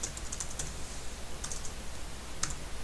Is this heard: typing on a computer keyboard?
yes